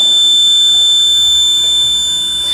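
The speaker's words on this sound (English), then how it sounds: "Buzzer is continuously sounds and motor is off" An Arduino soil moisture alarm buzzer sounding a steady, continuous high-pitched tone, loud and close, unbroken with no talking.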